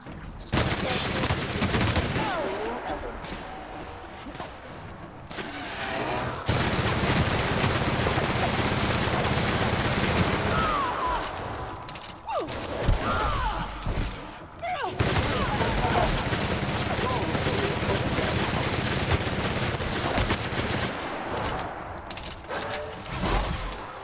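Sustained bursts of gunfire from The Outer Worlds video game, dense rapid shots running almost continuously for the whole stretch, loud and close, with short lulls and voices calling out now and then.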